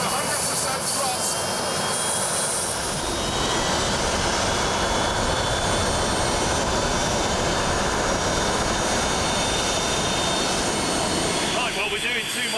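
A jet aircraft engine spools up to full thrust, a loud, dense roar that swells after a few seconds and holds steady, with a faint high whine and possible talk buried under it.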